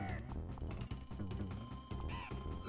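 A purple owl boss bird in Donkey Kong Country cries with rough caws over busy, loud game music and sound effects, the calls blending into the dense backdrop.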